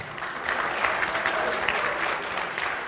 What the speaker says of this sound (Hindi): थोड़ा तालियां हो जाए।